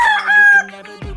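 A fighting rooster on a farm crows loudly and close, a drawn-out call that breaks off, then a short cluck follows.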